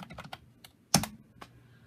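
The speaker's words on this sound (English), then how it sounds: "I hate my password, but now I got to type it in" Password keystrokes on a computer keyboard at a Windows 10 safe-mode login: a few scattered light taps, then one sharper, louder clack and a final soft tap, close and alone.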